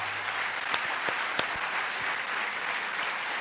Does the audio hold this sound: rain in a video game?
no